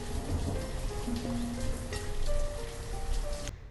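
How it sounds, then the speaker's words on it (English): Rain effect from the village-building game Banished: a steady, dense hiss of falling rain like a running shower, with faint game tones over it, continuous and fairly loud until cutting off abruptly near the end. "The rain sound could be increased."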